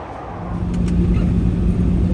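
A van cruising along a snowy winter road toward Narvik in Arctic Norway, a steady low engine rumble and tyre roar that swells slightly after the first half second, with no voices.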